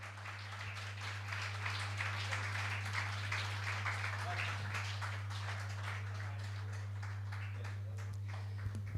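Audience applause at a Jain religious discourse gathering in Kunkuri, Jashpur, Chhattisgarh: steady, dense clapping heard somewhat faintly and continuously over a low electrical hum.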